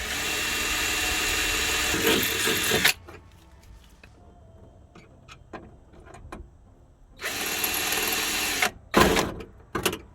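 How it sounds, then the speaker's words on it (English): A power drill drills holes for number 10 machine screws during a power door lock fix on a 1982–92 Camaro. It runs loudly for a few seconds, goes quiet with scattered clicks, then starts again in a longer burst and two short bursts. "Mark and drill."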